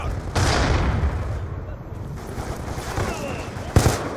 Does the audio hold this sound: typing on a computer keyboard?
no